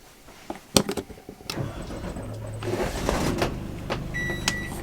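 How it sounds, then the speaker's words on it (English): A few clicks and clunks, then an RV generator cranks and catches, settling into a steady, low mechanical hum close by. "So this RV is equipped with a generator, so let's fire that up."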